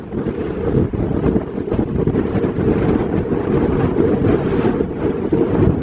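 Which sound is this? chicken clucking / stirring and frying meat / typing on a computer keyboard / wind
wind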